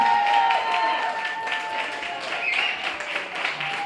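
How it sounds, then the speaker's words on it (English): An audience at the Apollo in New York claps to welcome a ventriloquist onto the stage, a steady wash of applause that fades a little partway through, with faint crowd voices underneath. "I want you to give a round of applause and welcome to the stage"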